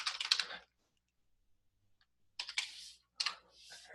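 C# code being typed on a computer keyboard: a quick burst of clicky keystrokes, a pause of near silence, then two more short bursts of typing, close and clear.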